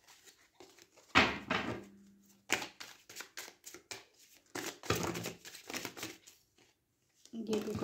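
Tarot cards are shuffled and laid down in bursts of crisp riffling and soft slapping, with quiet pauses between, while someone speaks over much of it.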